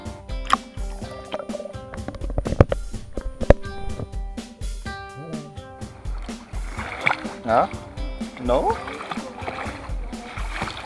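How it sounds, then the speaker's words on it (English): Water splashing in a family backyard pool on a hot summer day, mixed with a voice and adult talk over a busy, textured wash of splashes and movement nearby. "Wow, splash! Splash! Splash! Splash!"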